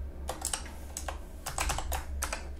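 Typing on a computer keyboard in quick bursts of key clicks separated by short pauses, close and clear with no voices over it.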